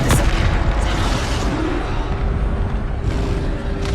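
A Bombarda spell going off in Hogwarts Legacy, a loud booming blast at the start followed by a sustained rumbling, crackling wash of explosive noise throughout.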